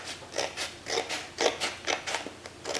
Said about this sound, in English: I'm gonna flip it over and cut it on this side.